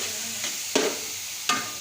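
Grated carrot halwa is roasted in a pan, sizzling softly while a spoon scrapes and stirs it in three or four distinct strokes, each a brief scratchy swish over the gentle frying hiss.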